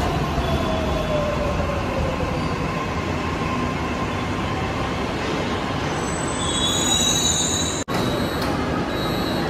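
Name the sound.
metro train at a metro station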